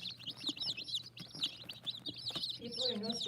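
Chickens and chicks make repeated high chirps and soft clucks close by, a busy run of overlapping calls with some low background noise and a brief voice-like sound near the end.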